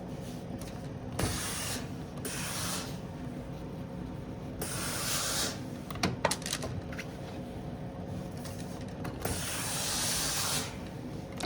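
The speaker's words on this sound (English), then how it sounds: "So I'm just gonna steam and pull back dry" Steam iron pressing quilting fabric, with repeated bursts of hissing steam over a steady mechanical hum, several broad puffs spaced a few seconds apart and a couple of sharp clicks.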